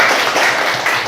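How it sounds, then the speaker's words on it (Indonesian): Classmates in a classroom clap for a group that has just presented, a dense, steady patter of many hands close by lasting about a second. "kalau gitu tepuk tangan buat temannya ya"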